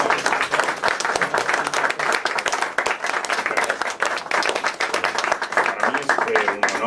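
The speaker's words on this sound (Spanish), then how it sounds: "nos queda cerrar el acto con un fuerte aplauso" An audience closes a book presentation with loud, energetic applause, many hands clapping in a dense, uneven patter close by, with some voices mixed in.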